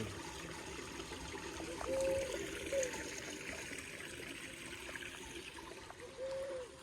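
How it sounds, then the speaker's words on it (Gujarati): Rainwater runs and gurgles into an old farm borewell, a steady low stream of flowing water heard alone at close range, with a couple of faint chirps. "આ પાણી જાય છે ને આ જૂનો બોર છે"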